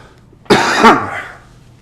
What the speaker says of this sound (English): So I'm going to cough for a second.